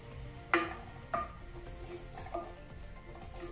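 Oats being dry-roasted on low heat in a pan for payasam, a soft scraping rub of a spoon stirring them, punctuated by a couple of sharper clinks against the pan, close and quiet.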